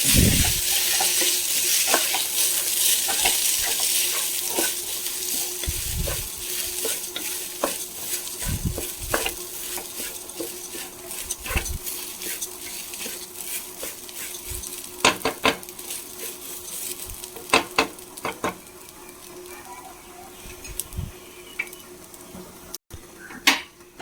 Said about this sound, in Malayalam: ഒരു 2-3 മിനിറ്റ് ഒന്ന് വറുത്ത് കൊടുക്കാം അരി.